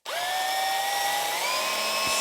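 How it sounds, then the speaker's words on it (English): A power drill bores a hole through a junk lamp part, its steady high whine holding loud and continuous with a slight pitch drop partway through and a brief knock near the end. "And then, once again, drilling a hole in the middle"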